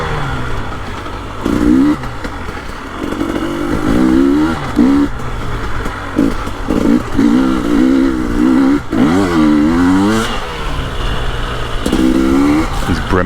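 A KTM 300 Erzberg dirt bike is ridden hard, its engine loud and close as it revs repeatedly up and down through the gears, rising and falling in quick surges.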